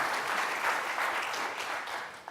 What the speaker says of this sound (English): So can we just give them a round of applause, please?